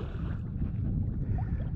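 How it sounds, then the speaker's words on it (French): A sailboat under sail with its engine switched off on a short coastal passage from Salerno toward Agropoli, heard as a steady low rush of wind and water, muffled and continuous, with no voices. "on a pu éteindre le moteur et là on fait route à la voile tranquillement"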